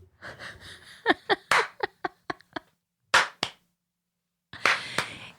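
A few people clap in a small room, a quick run of separate sharp hand claps followed by a pause and then another loud burst, with some breathing in between.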